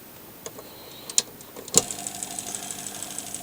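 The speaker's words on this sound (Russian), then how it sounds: "И сейчас запускаем двигатель." Small washing machine motor powered from a 12-volt supply with a tachometer spinning up from rest, a sharp click then a steady low whir with rhythmic ticking pulses at minimum speed, quiet and close.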